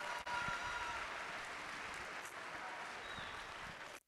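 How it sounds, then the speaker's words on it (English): Audience applause at a youth fair steer show, a continuous, fairly distant wash of clapping from an indoor crowd that holds steady for several seconds. "Let's give them a round of applause on a job"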